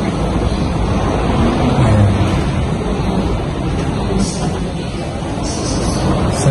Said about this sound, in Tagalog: Sadyang malakas ang hangin ng Bagyong Christine.